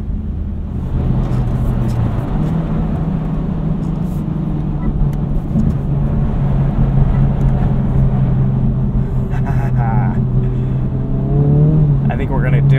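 A 2023 Honda Civic Type R on 18-inch wheels drives on a snowy road, its engine droning and shifting in pitch under a constant road rumble, with a person talking over it.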